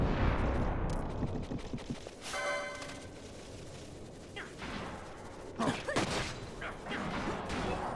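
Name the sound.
cannon fire sound effect in Final Fantasy XII video game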